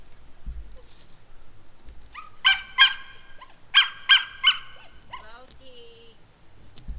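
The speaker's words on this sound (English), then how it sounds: "the one that's barking, for the most part" A dog barks outdoors in a forest glade, sharp yelps coming in short clusters of two or three with brief whimpering between them, over a quiet background.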